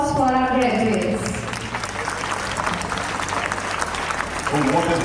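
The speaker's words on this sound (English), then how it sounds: "Please give a huge round of applause for our graduates" Applause at a pre-primary graduation day ceremony for the graduates, with a crowd clapping steadily throughout while voices carry over it, strongest at the start and end.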